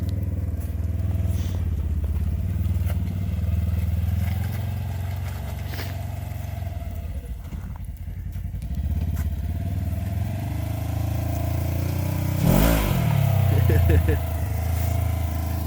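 A Polaris General UTV fitted with a Gilomen clutch kit and tuned ECU runs its engine in a loud, steady drone that rises into a brief rev near the end, with a person's voice heard over it.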